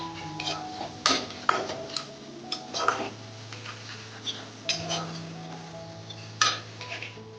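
Ginger garlic paste is stirred in a pan, with a metal spoon scraping and clinking in irregular taps and a soft steady sizzle beneath.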